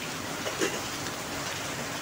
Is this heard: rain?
yes